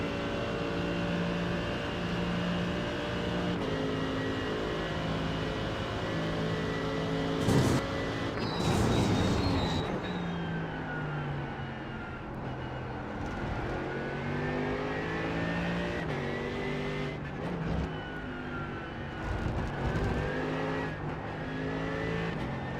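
Mercedes-AMG race car in the iRacing sim, its engine droning and revving loud and close with steady harmonic whine, rising and falling through gear changes over a green-flag racing lap, with brief bursts of tire noise.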